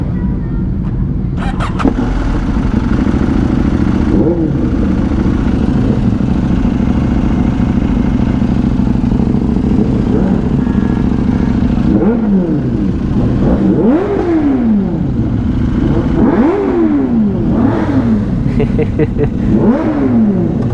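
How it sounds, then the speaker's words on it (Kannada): A Triumph Speed Triple 1200 motorcycle idles on a road ride, then its engine is revved in a string of sharp rising and falling bursts, loud and close. "ಇದು ಸ್ಪೀಡ್ ಟ್ರಿಬಲ್ 1200 ಸಾಕತ್ ಬರುತ್ತೆ ಸೌಂಡು."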